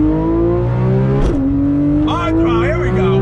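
Porsche 911 GT3 RS with PDK transmission accelerating hard, a loud close engine note climbing in pitch, dropping sharply at a quick upshift, then rising again, with a voice over it.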